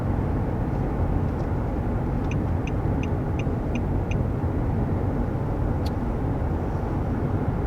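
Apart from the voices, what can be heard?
cabin road noise of 2021 Nissan Murano Platinum at 55 mph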